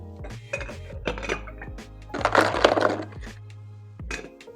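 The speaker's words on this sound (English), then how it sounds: "Add ice." Ice cubes clatter and clink into a cocktail mixing glass during a Scotch drink build, a quick cluster of hard glassy knocks followed by a few scattered clinks, close and alone.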